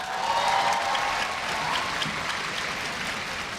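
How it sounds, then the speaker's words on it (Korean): Applause from a large audience at a university entrance ceremony in a hall, a steady, moderately distant wash of clapping that fades slightly over a few seconds. "박수 많이 치시느라 힘드셨죠?"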